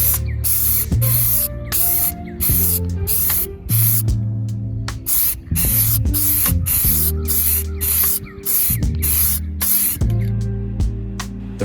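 Krylon gloss black enamel spray paint hisses from an aerosol can in a rapid run of short, loud bursts separated by brief pauses, with steady low background sound underneath.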